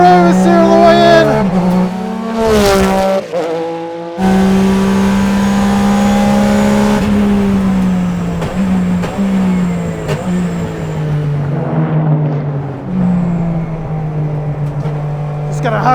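A rare ex-works Porsche 996 GT3 RSR race car laps a track with its engine revving hard through repeated gear changes, pitch climbing and dropping under braking and acceleration, while a driver talks over it throughout.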